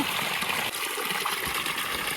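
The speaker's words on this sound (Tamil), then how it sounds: "ஊற்று தண்ணி நல்லா மோட்டரில் வருது." Spring water gushing steadily from a motor pump outlet in a village setting, a continuous dense rush and splash close by, with no voices.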